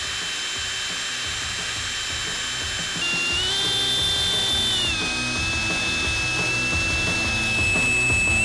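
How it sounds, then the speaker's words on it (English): Power drill boring into tack-welded steel, a loud continuous high whine that steps up in pitch partway through and holds steady, close and alone with no talk. "We're gonna drill these that we tacked in."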